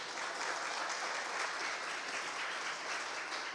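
Steady applause from a church congregation during a sermon, a dense even wash of clapping that holds throughout without a break.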